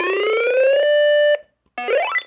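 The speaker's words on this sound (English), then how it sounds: "Let's do the siren test." A weather radio alarm test sounds a loud, piercing siren tone that holds steady, cuts off briefly, then returns with a rising warble, heard up close with no talking.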